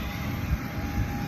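Airplane engine droning at an airport, a steady loud whine and rumble held close throughout with no voices.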